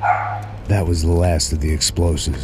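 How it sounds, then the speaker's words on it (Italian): A pet dog barks in short repeated bursts at home while video game dialogue plays over it, the barks mixed closely with a voice. "Se sentite il mio cane che abbaia perché ce l'ha con il mondo"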